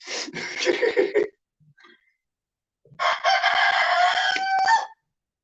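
A rooster crows loudly and close by, two long strained calls separated by a brief pause with faint clucks between, no speech over it.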